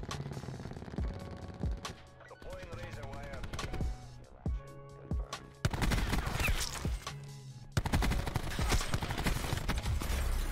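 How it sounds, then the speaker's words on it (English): Gunfire in Call of Duty Black Ops 4, a Maddox RFB rifle loadout in multiplayer: dense volleys of rapid shots and sharp single cracks, with bursts growing louder and more continuous toward the end, mixed with game sounds and a voice talking. "Getting shot from two different angles, bro."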